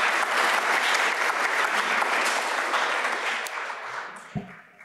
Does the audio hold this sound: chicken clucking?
no